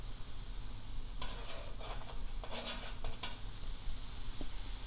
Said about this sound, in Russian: Вот вода закипела